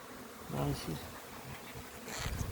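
Honeybees from an angry hive buzz around frames as they are handled, a steady insect drone that swells and fades with the handling, heard alone without voices.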